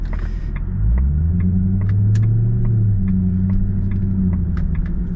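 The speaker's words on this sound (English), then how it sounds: "let's see what it's like to cruise in" A Jaguar XKR 4.2 (X100) cruises at low speed through a 20 zone, its engine a steady low rumble heard from inside the cabin, with light clicks and road noise and no talk.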